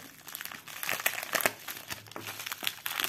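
Crinkly plastic packaging being pulled and torn open with effort, a cross-stitch kit parcel, giving a run of loud, close, irregular crackles and rustles with no talking.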